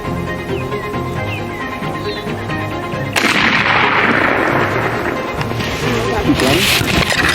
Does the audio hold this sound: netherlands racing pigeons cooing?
no